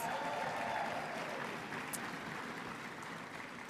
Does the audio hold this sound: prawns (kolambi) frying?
no